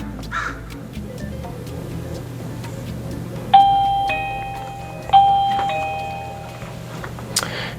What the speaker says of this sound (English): Press our doorbell.